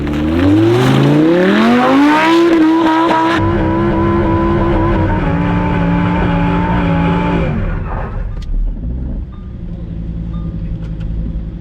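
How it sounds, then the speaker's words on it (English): A supercharged Lamborghini Huracan does donuts, its engine revving hard and climbing in pitch before settling into a sustained loud howl that fades toward the end, close and with no talk. "Those donuts in the Huracan are so tight."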